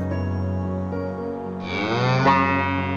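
A cow moos in one long, loud, nearby call that swells and rises in pitch toward the end, with no talk over it.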